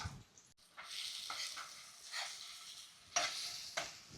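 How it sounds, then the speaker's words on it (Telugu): Boiled eggs frying in garlic chili oil with dried red chilies, a steady soft sizzle broken by a few scraping stirs of a spatula in the pan, close and without talk. "ఓ 2 నిమిషాలు ఈ గుడ్లని ఇలా వేగనిద్దాం"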